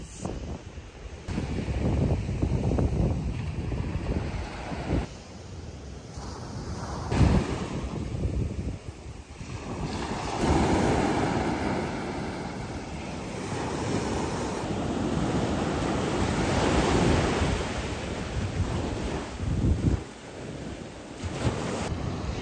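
Surf rolls steadily onto Warwick Long Bay in Bermuda while breeze buffets the microphone, the wash of waves rising and falling continuously with no voices.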